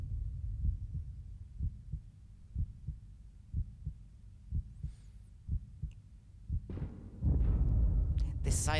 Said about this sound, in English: The heartbeat sound like that, it's kind of oppressive.